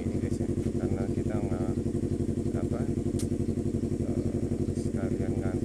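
A Yamaha R25 motorcycle runs steadily on a Sunday ride, its engine a loud, close, even throbbing drone throughout, with a voice talking over it at times.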